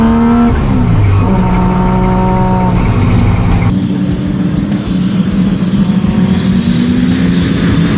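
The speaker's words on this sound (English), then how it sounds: "Listen to this thing go." A Triumph GT6 sports car on a race track, heard from inside with its engine close and loud, revving and shifting gears as it accelerates hard, the note dropping and climbing continuously.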